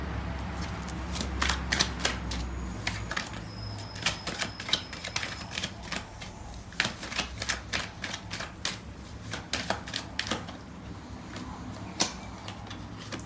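Tarot cards shuffled and handled close by, a steady run of crisp flicking and tapping clicks with soft papery rustle, alone with no talk.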